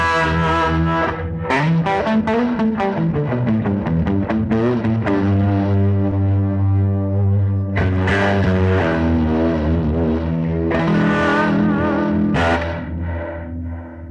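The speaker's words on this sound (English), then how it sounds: "I'm going to leave the reverb section in the split mode here and get this in stereo mode on tremolo" An electric guitar through a Fender Pano Verb amp in stereo tremolo with split reverb, sustained distorted chords throbbing with a wavering pulse and a long reverberant decay, played alone with no talking.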